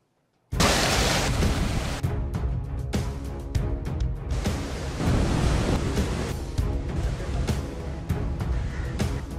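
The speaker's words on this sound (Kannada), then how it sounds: "ಅಲೆಗಳು ಅಬ್ಬರಿಸುತ್ತಿದೆ." Heavy Arabian Sea waves pound the coast during Cyclone Montha, a loud, continuous roar of surf that starts abruptly and stays dense and unbroken throughout.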